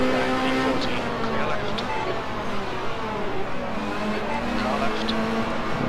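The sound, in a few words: race car engines in Assetto Corsa video game, Nordschleife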